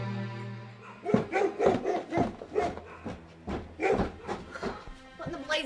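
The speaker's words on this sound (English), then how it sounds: "What in the blazes is going on with those darn dogs, Lucky?" Several dogs bark in quick, uneven bursts, loud and close, over a low droning tone at the start.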